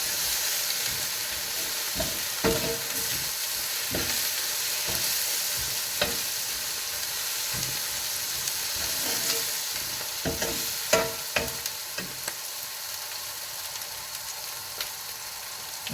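Masala for a Kerala-style chicken curry sizzles steadily in a pan while a spoon stirs it, scraping and clinking at irregular intervals over a continuous frying hiss.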